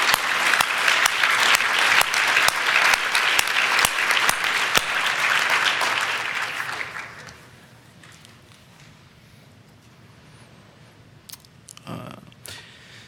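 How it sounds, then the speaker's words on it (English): A symposium audience at an awards closing session claps loudly and steadily for about seven seconds, then the applause fades out, leaving quiet room noise with a few faint knocks. "So let's just clap really loud so he hears us."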